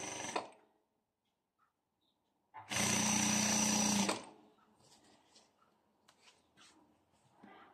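Sewing machine stitching a zipper onto a prayer dress, one steady loud run of about a second and a half between quiet pauses, with faint handling clatter afterward.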